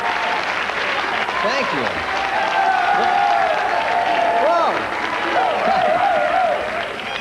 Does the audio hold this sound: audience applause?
yes